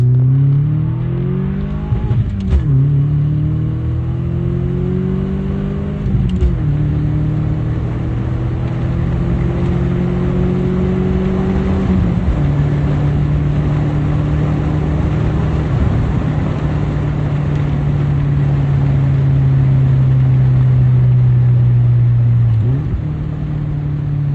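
A Subaru Legacy fitted with a street bike exhaust revs loudly and close, its pitch climbing and falling in several sharp blips before settling into a long, raspy sustained rev that drops away near the end.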